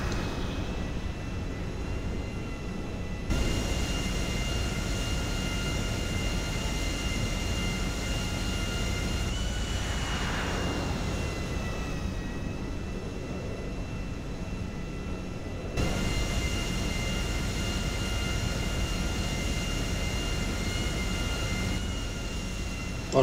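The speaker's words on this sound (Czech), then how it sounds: "To nechám tak volně padat to letadlo" A jet airplane in the Grand Theft Auto V video game roars with a steady, loud engine drone that holds for over twenty seconds, broken by a few abrupt level changes and a brief swooping pitch shift near the middle.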